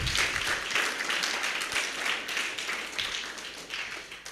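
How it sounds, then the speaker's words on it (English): An audience at a Children's Day celebration applauds, a dense wash of many hands clapping steadily at moderate volume, swelling and easing slightly throughout. "A better clap for the two."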